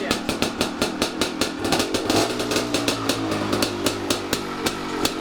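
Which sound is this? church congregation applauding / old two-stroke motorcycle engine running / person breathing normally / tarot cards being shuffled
old two-stroke motorcycle engine running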